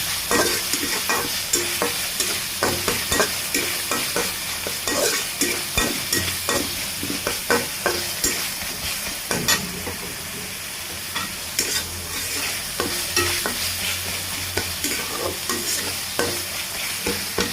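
Steady stir-frying of chopped onions in a hot pan: continuous sizzling with repeated scraping strokes of a spatula, close and fairly loud, no voices.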